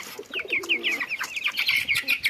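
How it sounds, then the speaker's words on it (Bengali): Pigeons cooing outdoors, a soft low coo under a string of brighter repeated chirps that run steadily and fairly close throughout. "এই যে কবুতরের ডাক"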